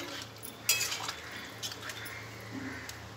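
Lentil dal with taro and Malabar spinach stems stirred in a pot, a few clinks of a spoon against metal near the start, then soft wet scraping and sloshing, quiet and close.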